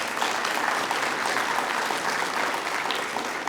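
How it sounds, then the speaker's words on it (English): Steady applause from an audience at a governor's small business summit honors the governor's office team, a brisk, even crowd clap with no talk over it. "let's give them a round of applause"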